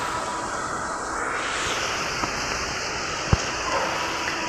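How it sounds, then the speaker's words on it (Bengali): Steady, dense rain hisses evenly throughout, with a couple of faint knocks standing out against the continuous downpour. "তো চলো আমি একটু বৃষ্টি দেখি বৃষ্টি উপভোগ করি"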